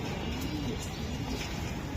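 A racing pigeon, a 2025 young bird from a BRPOA club loft, gives soft low cooing over a steady hum of background noise, murmuring continuously at moderate distance.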